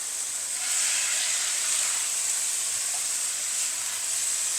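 Chopped green tomatoes with coconut sizzle in a hot pan while being stirred, a steady, close hiss with no one talking.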